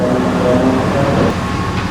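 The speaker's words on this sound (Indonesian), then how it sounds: "ini dia rangkaian kereta api komuter lain Supas ada di jalur 1 stasiun Probolinggo" Supas commuter train standing on track 1 at Probolinggo station, its idling diesel rumble and low mechanical drone steady and close, with a faint high tone near the end.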